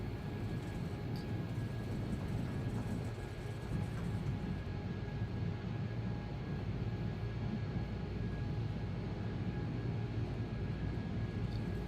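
Simulated Embraer E-190 jet engines at takeoff thrust in X-Plane 12 give a continuous broad roar with a faint steady whine, level throughout and heard alone.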